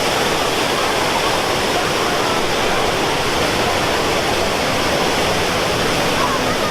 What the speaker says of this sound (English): It's loud right here because there's water rushing down behind me.